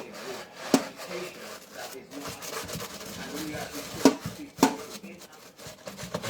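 A bristle brush scrubs a Nike Air Force 1 sneaker in close, uneven rubbing strokes, with a few sharper taps scattered through and a person talking over it.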